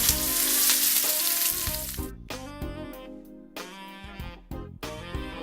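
Steak fries in a pan with a loud, dense sizzle for about two seconds, then the sizzle gives way to tonal music.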